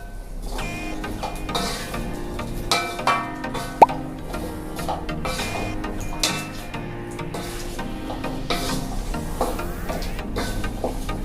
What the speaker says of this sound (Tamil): தேங்காய் பூ போட்ட பிறகு அதையும் நல்லா மிக்ஸ் ஆகிற மாதிரி கிண்டிக்கணும்.